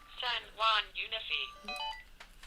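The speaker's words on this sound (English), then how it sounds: "my phone is ringing" A mobile phone rings with a short run of bright melodic tones, fairly faint, with a voice heard just before it.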